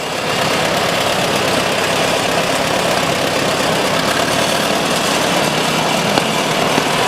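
A 1955 Farmall 300 tractor running in a county fair parade, its engine giving a loud, steady, close chugging drone with no talk over it.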